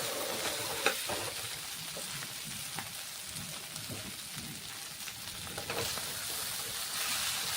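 Mashed prawns are stirred into pointed gourd frying in a pan on a gas stove. A quiet, steady sizzle runs throughout with soft scraping and stirring clicks, and no voices.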